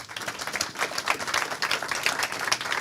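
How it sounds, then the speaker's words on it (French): Audience applause fills a round-table session, a dense, steady patter of many hands clapping at even loudness for a few seconds with no talk over it. "On peut vous applaudir."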